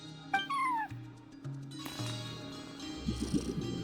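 A cat meows in Genshin Impact while watching over a front desk, giving a few short rising-and-falling cries close by, with steady game music tones underneath.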